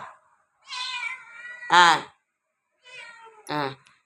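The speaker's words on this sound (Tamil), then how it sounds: "பூனைக்குட்டி" A kitten meows twice, each a drawn-out cry rising to a sharper peak, close by, separated by a short silence, with no talking.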